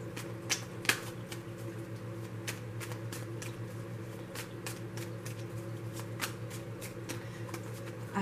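Tarot cards are shuffled softly and steadily at close range, with faint riffling and occasional sharper card snaps over a low constant hum.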